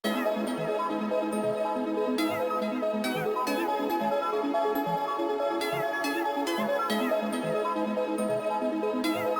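Bright Nexus synth melody answered by a bell that follows the chord's top note in pairs, forming a call-and-response hip-hop loop; dense, steady and fairly loud with no voices.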